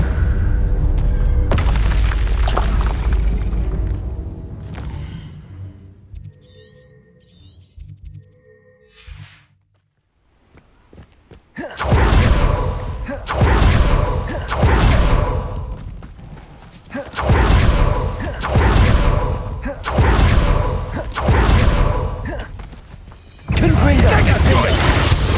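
Spell blasts, booms and explosive impacts from duelling in Hogwarts Legacy crash repeatedly and loudly in bursts, with a short quiet lull midway before a dense run of rhythmic, heavy thuds resumes.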